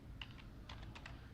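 Short bursts of typing on a computer keyboard, a few quick keystroke clusters close up over a low steady background hum, with no voices.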